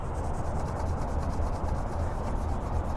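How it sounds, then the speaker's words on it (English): A fingernail scrubs dead bugs off a car's surface after a bug-removal product is applied, a continuous close rubbing scratch in quick back-and-forth strokes, with no talking. "you got to scrub, and I guess it does come off with my fingernail using it in there"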